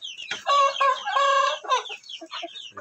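A pet hen clucks close by in a quick, lively burst of squawky calls lasting a few seconds, with no other sounds around it.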